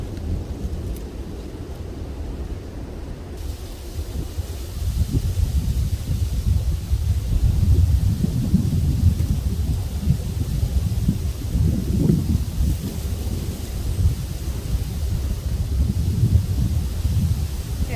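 Wind buffeting outdoors during a spring beehive inspection, a continuous low rumbling roar that strengthens after the first few seconds and stays steady.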